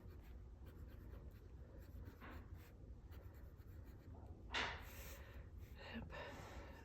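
Fountain pen with a Schmidt nib and very wet ink writing on paper, giving a faint, soft scratching in short intermittent strokes against a quiet background, with one slightly louder stroke partway through.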